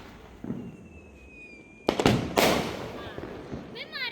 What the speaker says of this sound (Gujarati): ઓડિયન્સ આ રીતે ફટાકડા એન્જોય કરી રહી છે